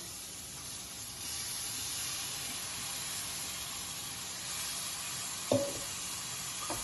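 Tomato puree hitting hot frying masala for Punjabi dhaba-style chole, giving a steady soft sizzle and hiss throughout, with a brief louder spurt of spatter near the end.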